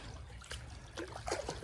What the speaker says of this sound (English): we are standing in the Little Lehigh Creek, which is a small tributary